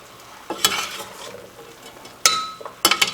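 Shrimp and asparagus stirred in a frying pan for shrimp fettuccine, with a steady sizzle under several sharp scrapes and clinks of the utensil against the pan, the loudest coming in quick strokes near the end.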